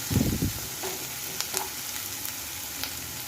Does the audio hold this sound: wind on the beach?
no